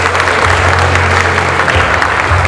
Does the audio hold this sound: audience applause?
yes